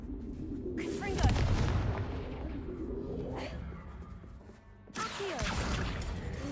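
Confringo blasting spell exploding in the video game Hogwarts Legacy: loud booming bursts with crackling debris, one near 1 second and another near 5 seconds, over continuous game sound.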